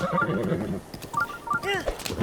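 A horse neighs in Zelda: Breath of the Wild, with a rising whinny near the end over game sounds and a brief stretch of lower voice-like noise early on.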